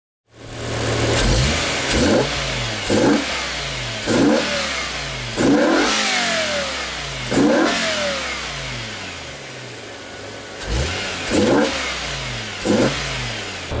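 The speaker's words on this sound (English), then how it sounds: "We're going to turn the car on now, let it idle for a bit, then we'll get some revs in." BMW E60 M5 V10 with an Eventuri intake and carbon airbox, starting up to a steady idle broken by about nine sharp blips of revving, each rising and falling quickly, loud and close.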